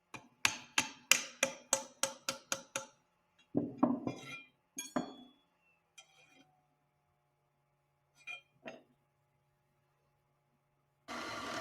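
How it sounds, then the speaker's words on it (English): A bushing for a Talon A600 aircraft control system is tapped into place with a rapid series of about ten sharp, close metallic taps, followed after a pause by a few scattered clinks and handling noises. "When installing the other bushing, be careful not to tap in too far and break off the collar of the bushing."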